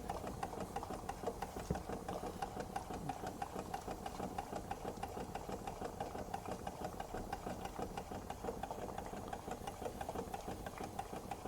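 A small Stuart Turner S50 steam engine runs steadily, fed by a boiler, giving a constant, quiet, rapid mechanical chuffing and rattling hum with no breaks.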